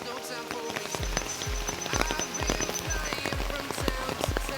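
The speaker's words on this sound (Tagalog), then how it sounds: "Umuulan din, oh." Rain patters steadily on a surface nearby, with a rhythmic thumping beneath it and faint background noise.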